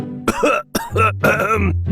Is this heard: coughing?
yes